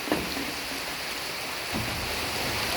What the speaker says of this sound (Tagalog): naulan na o, malakas ang ulan